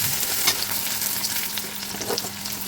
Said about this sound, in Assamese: আৰু পিঁয়াজখিনি লাল কৰি মই ভাজি ল'লোঁ।